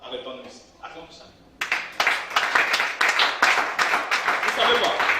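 Congregation in a church service breaks into sustained applause after a voice speaks; rapid, dense clapping with some cheering continues loud and steady to the end.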